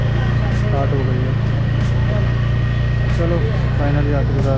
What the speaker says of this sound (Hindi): चलो फाइनली आखिरकार इंजन सीज के बाद स्टार्ट हुई है फर्स्ट टाइम।